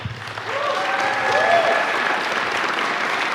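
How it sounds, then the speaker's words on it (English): Steady applause from an audience, a broad wash of clapping that swells after the first half-second and holds at full strength. "let's give both Tyler and Sandi a round of applause"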